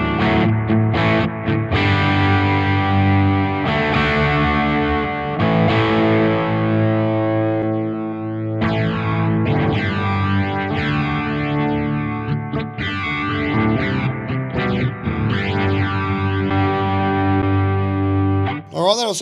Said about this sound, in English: I'm going to be a little bit boring and just pick this BB, the Bucket Brigade device delay.